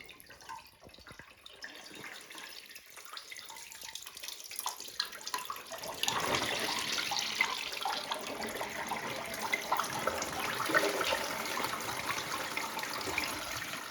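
A toilet flushes with a rising rush of water that swells into a steady, loud gurgling torrent and keeps running, close by with no voices.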